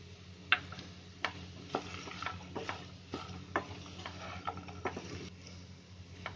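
Moong and matki are stirred with salt into ivy gourd in a pan, giving faint, close, irregular spoon scrapes and taps against the metal over a quiet background.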